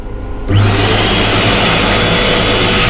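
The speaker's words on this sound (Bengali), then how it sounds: "hand dryer" An electric hand dryer in the toilet of a Vande Bharat express train starts abruptly after a faint hush and then blows in a loud, steady, close roar.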